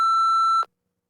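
An electronic beep signals the start of preparation time for a spoken test response, a single steady tone held about half a second before cutting off abruptly into silence.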